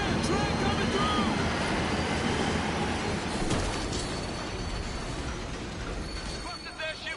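A train rushing through in the video game World War Z, a loud, steady roar of rail noise that fades slightly toward the end.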